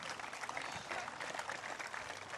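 Faint applause for swimming club members at an outdoor village event, a soft, even patter of clapping with some crowd murmur, sustained briefly at a distance.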